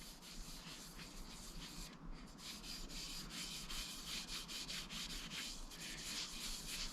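A cloth rubs Osmo finish onto a walnut box in quiet, continuous back-and-forth strokes with a soft, even scuffing texture throughout.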